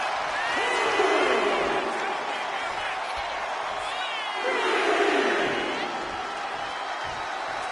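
Wrestling arena crowd in WWE 2K25, heard in a SmackDown show: a continuous roar of many voices, loud and sustained, with two swells of cheering and whooping rising above it.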